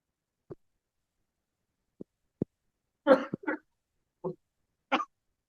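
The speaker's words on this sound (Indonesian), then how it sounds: "saya agak batuk." A few short, separate coughs in a quiet room, sparse at first, then a tighter cluster of harsher coughs.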